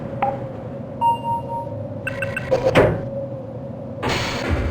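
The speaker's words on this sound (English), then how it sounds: "The door's not responding to your pass ID. Let me see if I can get it open on this side." A door opens in the video game Sven-Coop Blue-Shift. A few electronic beeps and mechanical clunks come first, then a whooshing sliding-door rush, and a second hiss of movement follows near the end.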